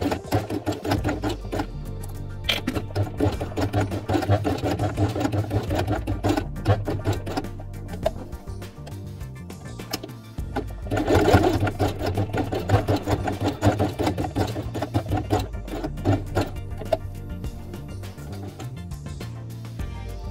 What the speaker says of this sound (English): Then sew them twice along the drawn line with white thread.